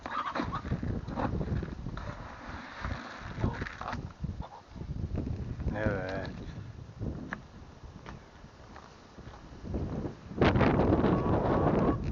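Chickens cluck and squawk nearby amid gusts of stormy wind buffeting the microphone, with a burst of louder rustling near the end.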